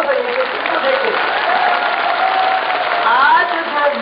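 A large crowd of women claps loudly and continuously at a political rally speech in Nasirabad, steady dense applause throughout, with a voice faintly over it.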